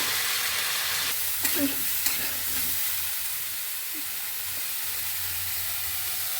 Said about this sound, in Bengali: ফুলকপি আলু আমি একসাথেই ভেজে নেব